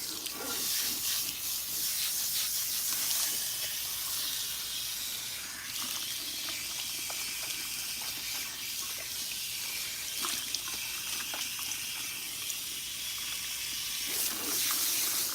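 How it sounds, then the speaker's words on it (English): Warm water runs steadily from a tap to rinse a pre-treatment out of shedding hair, a continuous hissing splash close by that carries on through the whole stretch with no talk. "I'm using warm water to rinse out the pre-treatment."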